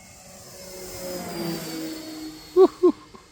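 A white RC model C-160 Transall plane flying overhead under cloudy skies, its electric motor a faint, steady whine carried on the air, with two brief louder bumps near the end.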